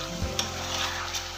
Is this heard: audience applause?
no